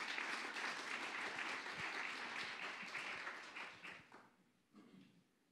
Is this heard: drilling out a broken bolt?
no